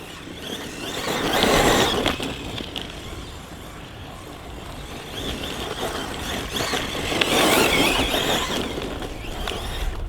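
A HoBao Hyper VS 2 RC car on a 4S battery, stock setup, runs with a whining motor that surges and fades as it passes, mid-distance, alone.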